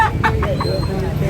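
An eight-month-old gray rooster gives a few short clucking calls close by, over a murmur of people talking in the background.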